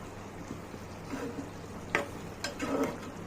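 Curry simmers quietly in a pan with a soft bubbling and faint sizzle, broken by a few light ticks and scrapes of a spoon against the pan.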